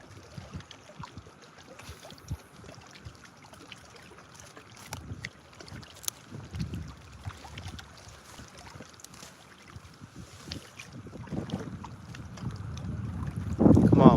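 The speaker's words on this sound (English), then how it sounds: "Come on, wind, stop." Wind buffets a microphone on a fishing boat out on an Ontario lake, a steady rumbling roar with gusts that swell louder toward the end, alongside faint water and hull noise.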